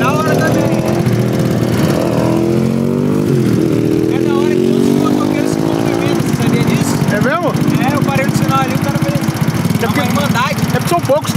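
A motorcycle engine revs and accelerates loudly throughout, pitch rising and falling through gear changes during a late-night ride, with people talking over it.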